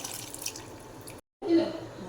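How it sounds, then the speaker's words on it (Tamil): Water pours into a pot of Tamil country chicken curry (nattu kozhi kuzhambu), a steady close splashing pour that breaks off briefly and then resumes more strongly. "தண்ணி அதை ஊற்றிக்கலாம்."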